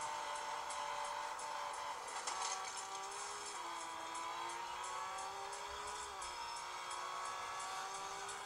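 A race car engine in the mobile racing game Real Racing 3, played on an Ulefone Vienna phone, holds a steady high whine that rises and dips with shifting revs, continuous and fairly loud throughout, with no talking.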